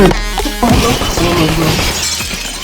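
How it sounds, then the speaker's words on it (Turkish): Glass breaking in CS:GO, a short crash early on amid game noise, with a sustained tone and background clatter and no clear voice. "camı kırıyor"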